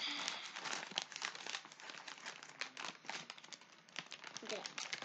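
Crinkling and tearing of wrapping as a delivered package is opened, a steady papery rustle with brief rips running close throughout, under faint background talk.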